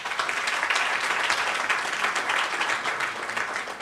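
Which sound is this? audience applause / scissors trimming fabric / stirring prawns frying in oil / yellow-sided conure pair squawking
audience applause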